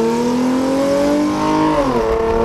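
A Hyundai Genesis Coupe with a 3.8 engine revs loudly nearby, its pitch holding and climbing before dropping off sharply, with the exhaust crackling as the revs fall.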